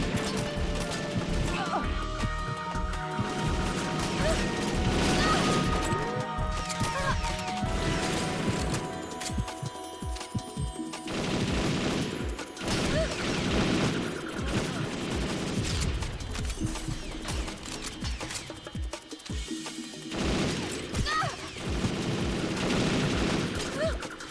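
Dense, sustained gunfire in the video game Perfect Dark Zero, with rapid bursts and crashing impacts layered over a loud, busy game soundtrack for the whole stretch.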